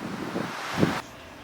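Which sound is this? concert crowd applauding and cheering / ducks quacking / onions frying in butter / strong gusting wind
strong gusting wind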